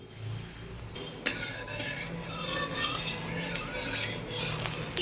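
Potatoes dropped into hot oil in a pan, giving a sudden sharp hiss that settles into steady sizzling with scraping and stirring against the pan.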